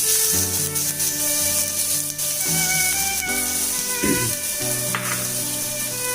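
Onions sizzle in heated oil in a pan as the base for a chicken keema gravy. The hiss runs steady and close for the whole stretch, partly masked by a tonal melody playing underneath.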